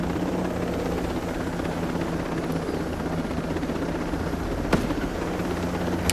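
Helicopter in the video game Ghost Recon Breakpoint, a steady loud rotor drone with constant low thumping and engine whine throughout, no talking, with a brief sharp click near the end.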